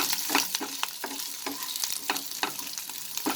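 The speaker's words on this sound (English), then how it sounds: "And I'll cook till the onions become translucent." Onions fry and sizzle in a pan while being stirred, a steady close hiss broken by regular scraping strokes, with no talking.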